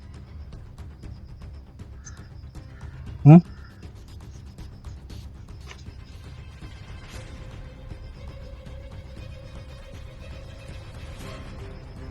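A crow gives a single loud, brief caw over quiet background murmur and faint mechanical clicks, with people talking softly nearby.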